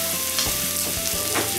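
Meat sizzles steadily on a home yakiniku grill, a dense close-up frying hiss with small pops and faint stirring or turning sounds throughout.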